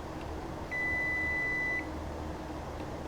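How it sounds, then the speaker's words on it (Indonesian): A multimeter's continuity buzzer on a laptop board (Asus X441U), a single steady high-pitched beep lasting about a second over faint background hiss. "Kita cek buzzer ulang ya. Kita buzzer antara kaki ini sama ini"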